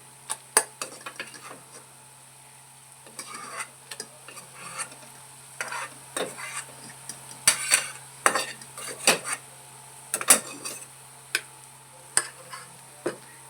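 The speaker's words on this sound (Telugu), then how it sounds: "గోంగూర మగ్గిపోయిందండి బాగా ఇప్పుడు దీన్ని వేరే బౌల్లోకి ట్రాన్స్ఫర్ చేసుకుని" Cooked gongura leaves are scraped out of a kadai into another bowl with a metal spoon: sharp clinks and scrapes in irregular bursts, close and clear over a faint steady hum, with no talking.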